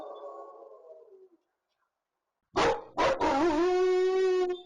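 A dog lets out a long, wavering howl, loud and close, after a brief low whine and a moment of silence.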